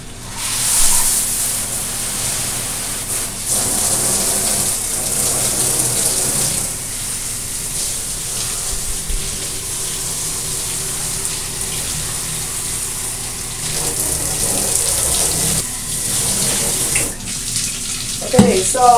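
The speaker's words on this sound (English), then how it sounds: "Okay, so I'm gonna rinse my hair out." Water running steadily from a tap or shower while hair is rinsed during dyeing, a continuous splashing gush that stays close and fairly loud with small shifts in flow, and no talking.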